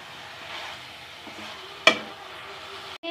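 Keema with kachnar buds frying in a pan: a faint, steady sizzle with one sharp clack from a spoon partway through and a brief scrape at the end.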